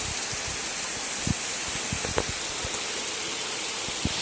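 Heavy summer downpour drumming steadily on a roof, with drips falling from a leak; dense, constant hiss close by, scattered with brief louder splats and drops, no voices.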